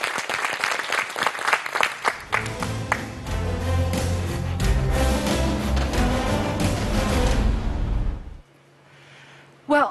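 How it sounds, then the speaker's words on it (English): Audience applause at a debate between Chinese and Indian media on Doklam, held with BRICS nations: loud clapping at first, then a sustained wash of crowd noise with tonal sound, which cuts off near the end. "Thank you very much, Marcelo, and a round of applause."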